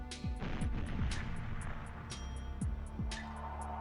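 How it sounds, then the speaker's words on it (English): Grenade blast in GoldenEye 007 on the N64, heard among a dense run of game gunfire and impacts: repeated sharp bangs and booming crashes, loud and continuous, with no voices. "I think that guy's trying to throw a grenade."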